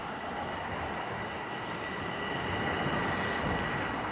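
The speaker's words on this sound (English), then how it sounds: "I think we're going to get a view of a subway train pulling in." A Toronto subway train rolls into a station, a steady rumbling roar of wheels on rails with a faint high squeal emerging near the end.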